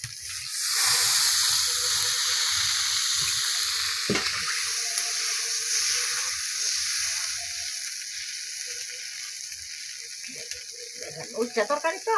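Water poured into a pan of sizzling bitter gourd (uchhe) and potato curry, a loud frying hiss that surges and settles, with stirring scrapes and a clatter toward the end.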